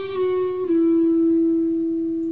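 Sustained guitar notes from a Canon in D run, a clear held tone that steps down to a lower pitch partway through and rings out alone with no talking.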